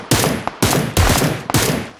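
Gunfire in a video game rings out as four loud, separate bursts about half a second apart, each sharp, close and filling the short clip with no talk.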